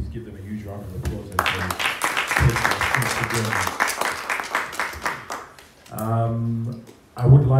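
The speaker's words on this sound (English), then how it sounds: "Please give them a huge round of applause" A crowd applauds panelists at an agritech talk steadily for several seconds, then the clapping fades as a voice speaks near the end.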